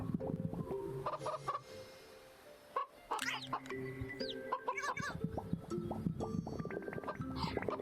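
Chickens cluck in a VRChat virtual world, their calls scattered among busy, layered game noises and thumps, close and fairly steady throughout.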